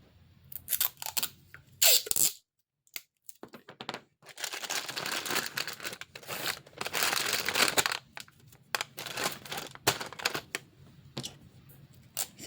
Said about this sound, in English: now I'm going to just fold this up like the rest of a normal present